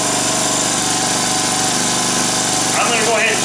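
Husqvarna 324L string trimmer with a small two-stroke engine running steadily after unboxing, a continuous loud buzzing drone with someone speaking over it.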